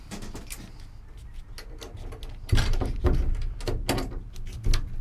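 A boat's console door on a tournament catfish boat swings up and is pinned in place with Bimini-style hardware pins. The result is a run of close clicks and knocks, with heavier thuds near the middle and end.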